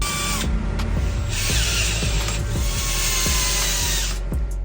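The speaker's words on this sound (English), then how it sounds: "We also drill a hole so we can slide the wire through." A power drill bores a hole through a wooden trailer bunk board, a loud, steady, close whine with brief pauses and the bit's recurring rhythmic chatter as it cuts.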